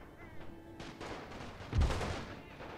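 Rifle and grenade gunfire in the trench-warfare game The Great War, scattered distant shots and pops building to a heavier booming burst midway that then rumbles away.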